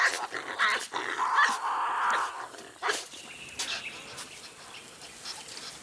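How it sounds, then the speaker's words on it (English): Tasmanian devils fighting in the wild, with harsh growls, snarls and screeches in close, overlapping bursts over a bushland backdrop. "for a devil, a fight is the preferred method of sorting an issue out"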